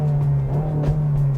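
A 2023 Honda Civic Si engine in normal mode without active exhaust, a steady low drone with a faint rise and fall, heard from inside the car, brief and alone.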